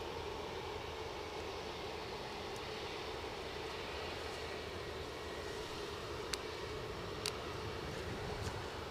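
A WestJet Boeing 737 MAX 8 at Edinburgh airport gives off a faint, distant, steady engine roar that holds evenly throughout, with a couple of brief clicks near the end.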